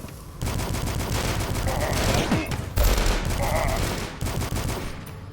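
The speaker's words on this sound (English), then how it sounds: "Something was shooting me from behind." Enemy gunfire in the video game Till Dawn: rapid volleys of shots rattle loudly and continuously, with a heavier burst near the middle and brief gaps toward the end.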